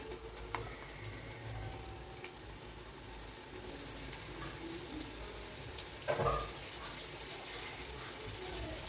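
Ground small shallots frying in a pan for chicken biryani, a steady broad hiss of oil with watery bubbling and an occasional louder stir, fairly faint and without speech.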